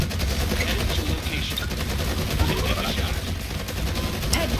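Machine gun soldiers firing in the strategy video game Forged Battalion, a dense continuous crackle of automatic gunfire layered with game noise, steady and fairly loud throughout.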